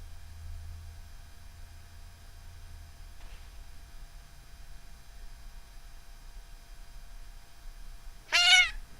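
A cat gives a single short meow near the end, fairly close, after a long stretch of low hum and quiet room noise.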